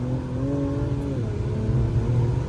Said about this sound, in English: Oh, this just sounds too good, boy. I love the exhaust on this, bro.